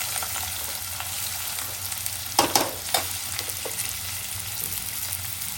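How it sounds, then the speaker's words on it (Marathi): Onion frying in a pan with chillies, giving a steady bright sizzle throughout, with a few louder stirring clatters near the middle and no voices. "आता आपल्याला मस्त कांदा टाकून घ्यायचा पहिला"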